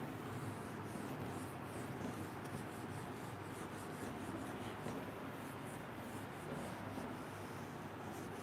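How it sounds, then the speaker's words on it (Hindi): Writing being erased from a classroom board, a continuous soft rubbing and scrubbing noise at low level, steady throughout with no talk. "ये वाला रब कर देता हूं यहां से"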